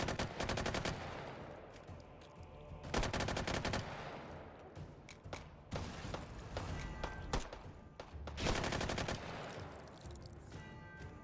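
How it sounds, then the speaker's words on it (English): Rapid bursts of automatic gunfire and single shots crack loudly in the VR shooting game Hot Dogs, Horseshoes & Hand Grenades, clustered in several heavy volleys separated by brief lulls. "Oh, this guy is just taking pot shots at me."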